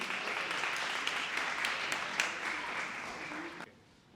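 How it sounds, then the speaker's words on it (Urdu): A school assembly audience in Lahore applauds steadily, a dense wash of clapping hands that carries on for a few seconds and then cuts off abruptly into a quiet room. "خیر مقدم کریں گے آپ سب، بھرپور تالیوں میں"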